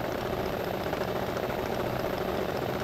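Rally car engine in EA Sports WRC held on the handbrake at the start line, a steady loud buzzing drone of revs with no talk over it.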